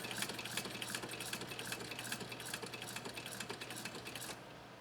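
A 1923 Singer Class 128 knee-controlled sewing machine stitches at a quick, even pace, its rapid rhythmic clatter running steadily and faintly for several seconds before stopping abruptly.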